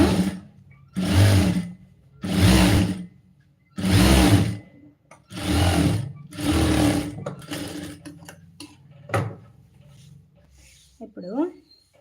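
Sewing machine running a loose basting stitch along piping in a home tailoring session, five loud whirring bursts of about a second each at an even rhythm, then quieter clicks and handling.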